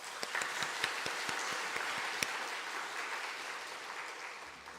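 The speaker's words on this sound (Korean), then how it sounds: "다시 한번 박수 부탁드립니다." Congregation applauding during a Sunday afternoon Methodist church service, a steady wash of many hands clapping with a few sharper individual claps standing out early, sustained at moderate level and slowly easing off.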